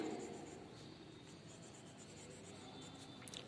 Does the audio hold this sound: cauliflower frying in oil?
no